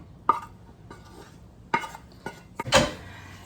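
Cooked ground beef is dropped into a pot and stirred, giving several sharp clanks and scrapes of a utensil against the pot, spaced irregularly with a louder cluster near the end, close and clear.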